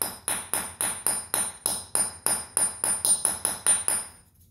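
A hammer taps a carpet nail set in a concrete foundation, about a dozen sharp metallic ringing strikes in quick steady rhythm, close and loud, with no talking.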